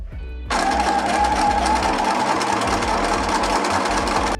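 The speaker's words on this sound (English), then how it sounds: "let's sew as close to the edge as possible" A sewing machine topstitches close to the edge of taut fabric, running in one steady, continuous burst that starts abruptly and stays loud and close throughout.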